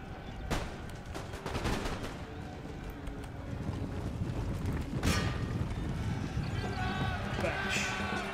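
Cannon fire and battle noise in the Empire: Total War strategy game, several sharp booming shots over a busy, rumbling background of combat, with someone talking over it.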